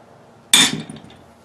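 A single sharp metallic clang as a 2.5 pound sledgehammer strikes a brazed steel tool rest, close and loud with a bright ringing tail that fades over half a second.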